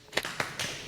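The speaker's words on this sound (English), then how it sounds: "I want y'all to give yourself a big hand clap for coming out today" Group of people clapping hands briefly, a few sharp scattered bursts at an event where a host welcomes the crowd, loose and uneven rather than sustained applause.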